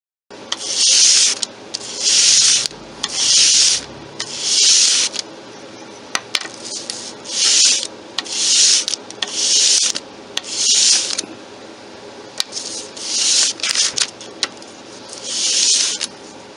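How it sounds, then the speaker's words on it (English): Sandpaper rasps across a wooden kitchen utensil handle by hand in repeated back-and-forth strokes, a loud, steady rhythm of gritty scraping bursts with brief pauses between. "Let's keep sanding."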